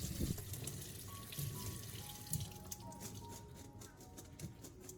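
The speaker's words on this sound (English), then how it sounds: "rinse it a few more times with clean water to remove any remaining salt or baking soda" Ginger being rinsed in clean water to wash off leftover salt and baking soda: a steady close patter and trickle of running water with small splashes, continuous throughout.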